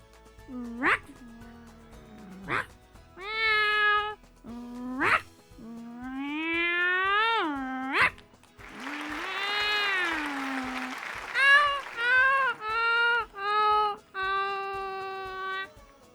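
On a Malayalam TV game show stage, a mimicry artist voices a dog and cat fighting, with a series of drawn-out meows and yowls and sharp barks, loud and close, broken by short pauses.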